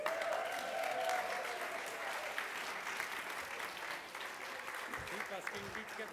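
A small audience claps for a band at a live studio soundcheck session, warm steady applause a little distant, with a presenter's voice talking over part of it.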